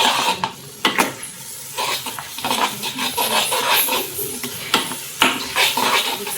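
A vegetable dish is stirred and mixed in a pan, with close, irregular metal scrapes and clinks of a spoon against the pan and a few sharper knocks.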